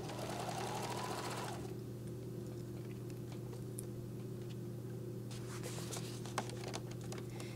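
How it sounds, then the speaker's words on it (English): A sewing machine runs in a fast burst while stitching messenger bag fabric, then falls quiet. Small ticks and clicks follow, and a shorter stitching run comes later, all over a low steady hum. "Now I also want to top stitch this,"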